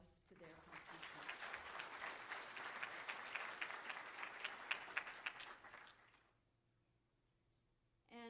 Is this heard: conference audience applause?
yes